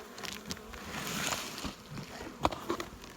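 Honey bees buzz steadily inside a heavy, well-populated colony box, a dense continuous hum close by with a few brief louder knocks and rustles.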